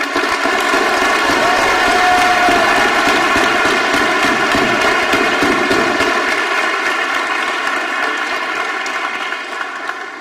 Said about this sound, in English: let's have another round of applause for faculty, staff, and